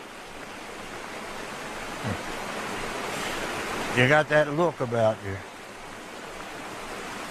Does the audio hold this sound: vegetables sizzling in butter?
no